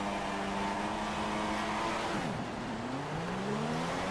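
Formula 1 race car engines from the F1 2016 video game at the Spielberg circuit, a steady engine drone followed by rising and falling revs as several cars accelerate, continuous and fairly close.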